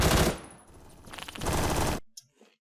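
Automatic AK107 rifle fire in the video game Phantom Forces: a loud, close burst of rapid shots, a short pause, then a second sustained burst that cuts off into near silence.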